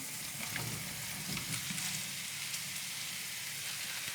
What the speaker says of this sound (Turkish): Aslında bir nevi soteleme gibi olacak bu.